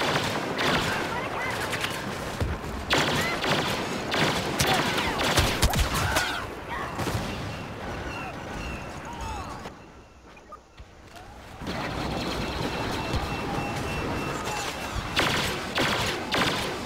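Blaster gunfire in the Star Wars Battlefront video game during a Supremacy match on Outpost Beta, with dense rapid volleys and bursts of shots, loud and continuous, broken by a brief quieter lull midway, with occasional talk underneath.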